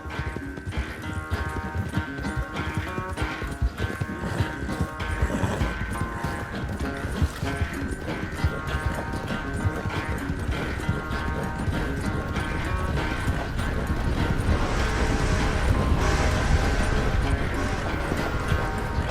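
Steady clip-clop of horse hooves trotting along in the video game Red Dead Redemption 2, with a horse's whinny and a continuous dense backdrop of music and ambience.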